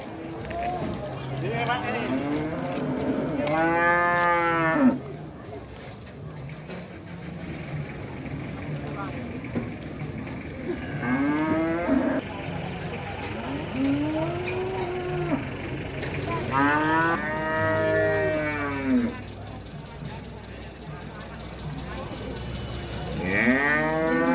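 Cattle moo repeatedly at a morning livestock market in Purwantoro, with several long, loud lowing calls spread across the scene over constant crowd chatter and people talking nearby.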